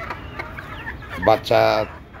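Native chickens cluck in short bursts close by, with a louder drawn-out call near the end over faint background noise.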